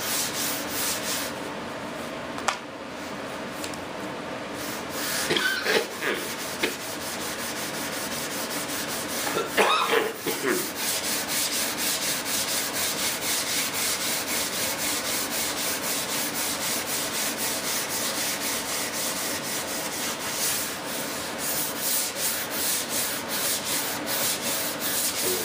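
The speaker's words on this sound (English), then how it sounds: "Resist the urge to sand with the hand." F-18 model wings being hand sanded produce continuous, fairly quiet rubbing strokes, a steady gritty scrape that goes on with brief louder swipes near the start and no talking.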